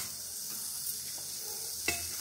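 Onion and a piece of coconut with fenugreek seeds frying in a pot on a stove for fish curry: a steady close sizzle with faint stirring scrapes and a brief clink near the end.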